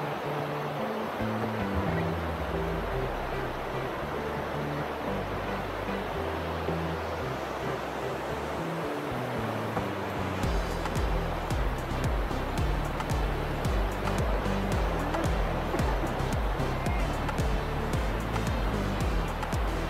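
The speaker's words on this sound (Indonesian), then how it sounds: "Aliran sungai deras." Swift river current near the Coban Waru waterfall in Pacet, a continuous broadband rush of flowing water, steady and close, with a heavier low rumble joining partway through.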